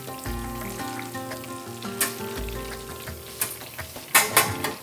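Herb-breaded pork fillet frying in oil bubbles and hisses close by, with sharp crackling bursts near the end over a low steady hum.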